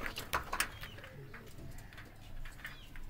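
Pigeons coo softly at a breeder's loft, with low murmuring calls and a few sharper chirps and rustles over steady background noise.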